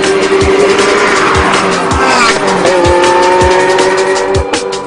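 A Ferrari supercar roars at high revs close by, its engine note holding steady with a sustained tonal whine and rhythmic gear-change thumps throughout.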